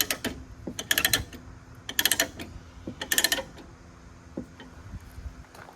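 A chain binder on a load securing a Case 445 for hauling is twisted tight by hand, giving several bursts of metallic ratcheting and clanking with quieter creaks between, close up and with no talking.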